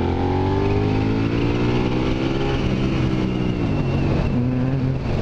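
A Suzuki SV650 motorcycle with an SP Tadao aftermarket exhaust roars and accelerates with a deep, throaty exhaust note, pitch climbing steadily, loud and close throughout with no talking.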